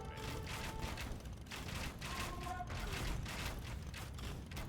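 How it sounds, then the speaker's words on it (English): Bombard cannons firing in Age of Empires 2, a dense steady stream of crackling battle noise with repeated booming impacts and clatter, continuous throughout and moderately loud. "But the bombard cannons are here."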